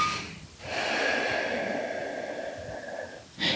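A deep, slow breath taken during a Sivananda hatha yoga exercise: a long, airy inhale or exhale lasting a few seconds, close and fairly loud, with a sharper intake at the end and no talk over it.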